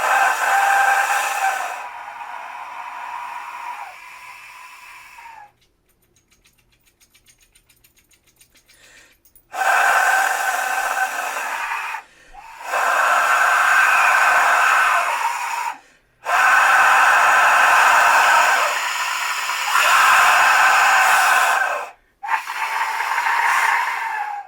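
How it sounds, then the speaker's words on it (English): A 3D printed Aztec death whistle blown in several long, harsh, breathy shrieks separated by short silences, loud and close, with no talking. "This is a 3D printed Mayan death whistle, and it sounds like this."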